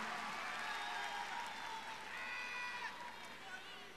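Commencement audience of families, friends and students applauding graduates in a large hall, steady broad clapping throughout with speech-like tones mixed in.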